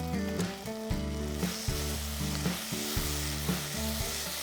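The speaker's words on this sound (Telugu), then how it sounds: "మంచిగా పసుపు కారం బాగా పచ్చివాసన పోయేదాకా స్లో ఫ్లేమ్లో ఫ్రై చేసుకుందాం" Turmeric and chili powder frying in an onion-tomato masala on a slow flame for crab masala, giving a steady close sizzle with rhythmic scraping stirs.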